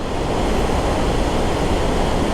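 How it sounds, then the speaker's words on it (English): Kravice Waterfalls in Bosnia roar from close by, more than twenty meters of falling water making a loud, dense, unbroken rushing wash with no voices. "So impressive to be so close to these waterfalls."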